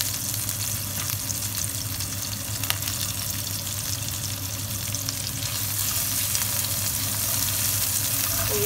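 Onion sizzles and fries steadily in a pan of hot oil for squid adobo, a dense continuous crackle at close range with no voices, growing slightly louder toward the end.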